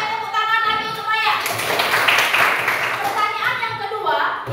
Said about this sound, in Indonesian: tepuk tangan lagi untuk Maya.